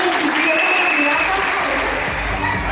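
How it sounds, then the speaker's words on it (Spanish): Loud crowd applause for teen pageant contestants at a Miss Teen Models Venezuela event, dense clapping mixed with cheers, whistles and an indistinct voice over the top. "Fuerte el aplauso a esas"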